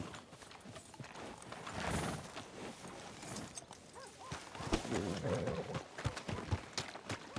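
Horse hooves clip-clop on a street in Red Dead Redemption 2, a steady run of thuds under game ambience with a brief whinny-like rise, moderately loud and close.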